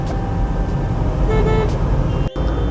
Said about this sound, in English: the car is traveling at 80 plus speed